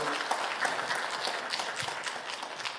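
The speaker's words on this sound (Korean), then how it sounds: "박수로 축하해 주십시오." Church congregation at a Sunday worship service clapping in congratulation, a moderate, fairly even patter of many hands with a few sharper individual claps standing out.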